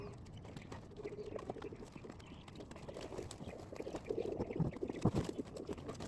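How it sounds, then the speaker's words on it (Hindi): Pigeons let out of a coop onto an open rooftop, with soft wing flutters, scuffling and low cooing spread through steady outdoor ambience, busier and louder toward the end. "तो चलिए सबसे पहले मैं कबूतर को बाहर निकालता हूँ"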